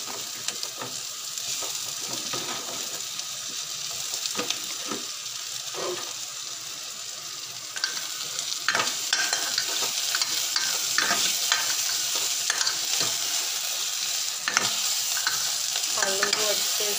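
Potatoes tossed into fried onions in a pan for an onion, potato and tomato sabji, with a bright steady sizzle under repeated scraping stirs that grow busier halfway through.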